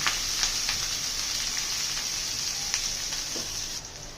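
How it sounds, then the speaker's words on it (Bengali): Chopped onion fries in a pan with a bright, constant sizzle close by, a few soft stirring knocks scattered through it and no voices. "পেঁয়াজটাকে আমি একটু হালকা ভেজে নিচ্ছি"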